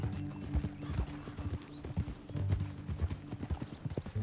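Hooves clip-clop steadily on hard ground, a fairly quiet, continuous rhythm of several horses with a faint whinny and low rumble underneath.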